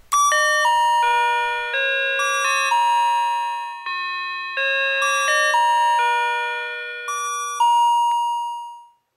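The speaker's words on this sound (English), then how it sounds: "Here's a two-tone ding-dong sound chime that can also be hooked up." A wireless door entry alert plays a loud two-tone ding-dong chime, with clear bell-like notes repeating in a sequence of paired tones over about nine seconds, ringing out and fading at the end.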